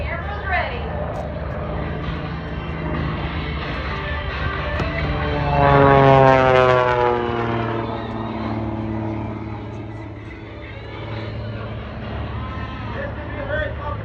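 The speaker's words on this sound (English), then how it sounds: "This can be a very complicated airplane to fly." A Waco biplane with a Pratt & Whitney radial engine flies at the EAA Oshkosh air show in Wisconsin, its steady loud drone rising to a peak as it passes close, with faint crowd babble underneath.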